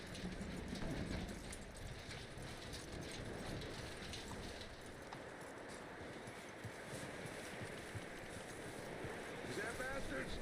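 Horse hooves clip-clop in Red Dead Redemption 2 amid wind and ambient outdoor noise, a quiet, steady rhythm of steps running throughout.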